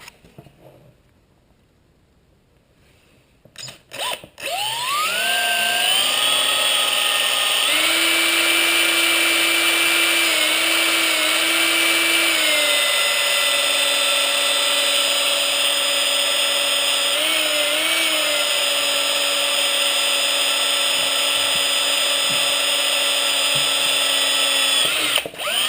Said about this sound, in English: I'm going to go ahead and drill the bottom one.